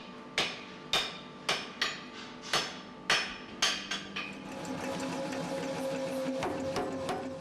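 Hammer blows on a red-hot steel bar drawing it out thinner, eight sharp ringing strikes in a steady rhythm over about four seconds, then a continuous mechanical hum with a rising whine takes over.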